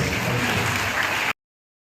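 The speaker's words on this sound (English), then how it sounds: "Let's all give it a bit of applause" Audience applause at a school investiture ceremony in a St Mary's School auditorium, dense and even clapping that lasts over a second and then stops abruptly.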